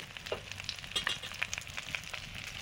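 Mustard oil sizzles and crackles in a pan as snakehead fish is fried before cooking with potatoes, a close, steady hiss with scattered sharp pops and spits.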